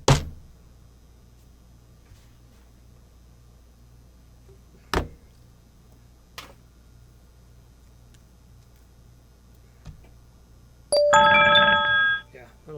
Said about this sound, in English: It's strange the phone keeps ringing.